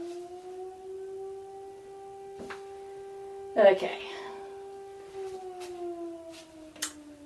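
A firehouse siren holds a steady, distant wail that slowly sinks in pitch toward the end. A brief spoken word and a few small knocks break over it.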